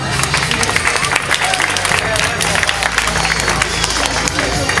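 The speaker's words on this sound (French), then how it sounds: "On peut applaudir Quentin" A cabaret evening crowd applauds a volunteer named Quentin, a loud, dense burst of clapping mixed with crowd noise and some cheering, with talk over it.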